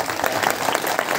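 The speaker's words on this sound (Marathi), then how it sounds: "एकदा यांच्याकरता टाळ्या वाजवा." Dense, steady applause from an audience at a Harikirtan anniversary gathering in Dalepada, Padgha, for the pakhawaj player and the cymbal players, a continuous wash of many clapping hands throughout.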